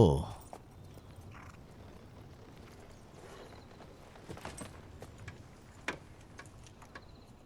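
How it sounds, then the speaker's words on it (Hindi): Horse hooves clip-clop at an unhurried pace in a Chinese drama, sounding as sparse, light taps over a low background, with one louder knock near the end. "देखो तो जरा इसे, कितना खूबसूरत घोड़ा है।"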